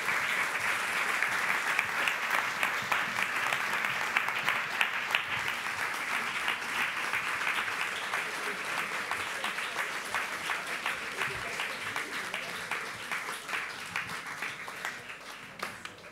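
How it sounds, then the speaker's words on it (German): Sustained applause from an audience at a film festival stage event in Munich as cast members come on stage, many hands clapping steadily at a moderate distance and slowly easing off, with some talk underneath. "Also großen Applaus"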